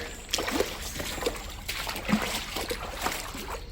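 Water from a drain jetter floods a drain, splashing and sloshing continuously at close range, with small gurgles and drips breaking through the steady rushing flow.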